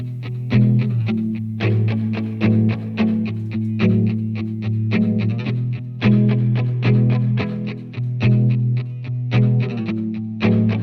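Chugging distorted electric guitar plays tight, palm-muted rhythmic chords, loud and steady with regular accents, sitting in a full band mix.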